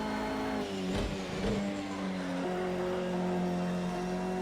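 A Bentley Speed 8 race car in a video game racing at Bathurst, its engine note climbing and dropping through gear changes, a sustained steady roar near and continuous with no talk.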